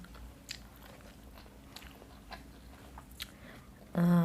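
Crab stick sushi being eaten up close, soft wet chewing with a few faint bites spread through, quiet and intimate, with a brief louder burst of other sound at the very end.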